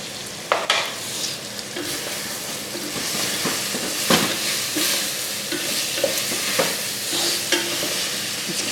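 Capsicum and masala stir-fry in a hot pan, a loud continuous sizzle broken by repeated sharp scrapes and clacks of a spatula at irregular intervals, with no voices.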